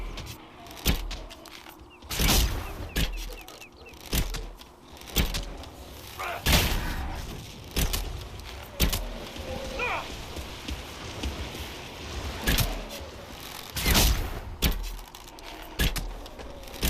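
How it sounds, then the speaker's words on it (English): Combat in Dragon Age: Inquisition brings sharp, loud explosions and heavy shots, bursting at irregular intervals against rumbling in-game background noise. "Explosion! Heavy shot."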